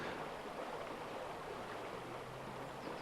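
A river rushes across a mountain bike World Cup course at Houffalize in 1993, a steady, close, full-bodied hiss of flowing water that continues evenly throughout.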